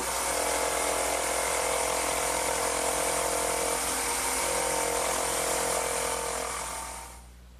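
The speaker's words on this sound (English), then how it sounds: "now I will use my electric jigsaw" An electric jigsaw cuts through wood while a rocking horse is built, a loud, steady buzzing motor with rapid blade chatter that runs unbroken for several seconds before cutting off.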